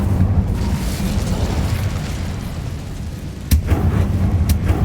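A fire spell, Incendio, cast in the Hogwarts Legacy video game: a dense, roaring whoosh of flame with a heavy low rumble throughout, punctuated by a sharp burst near the end.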